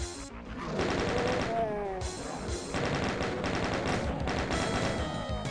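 Chaingunner enemies in Doom II spray rapid chaingun fire in a Map09 Of Blood and Barons fight, dense, loud and continuous bursts of crackling gunfire mixed with other game sounds throughout.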